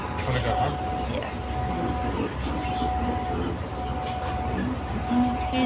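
Riding inside a moving train: a loud, steady rumble and rattle of the carriage that fills the whole stretch, with muffled voices mixed in.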